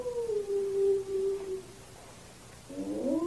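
Lost dog howling in the woods at night, one long, sustained, mournful howl that slowly falls in pitch and fades, followed by a second howl rising after a short pause, moderately distant.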